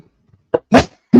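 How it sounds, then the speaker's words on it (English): A single close, loud sneeze bursts out after a short intake of breath, heard during a live boxing commentary stream. "I'm gonna sneeze."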